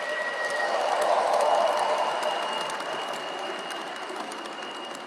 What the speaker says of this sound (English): The train is departing.